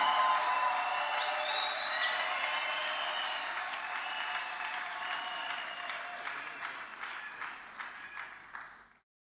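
A church congregation applauds at a worship service, steady dense clapping from a crowd that gradually thins and fades before cutting off abruptly at the end.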